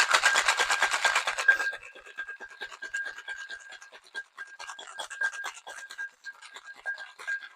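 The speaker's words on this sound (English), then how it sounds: "we are going to fill with ice and shake for about 15 to 20 seconds or until it's ice cold in your hands" Ice rattles hard in a cocktail shaker tin for a Royal Flush whiskey drink, a loud, rapid rhythmic shaking that stops abruptly, followed by quieter scattered clinks and rustles over a faint steady tone.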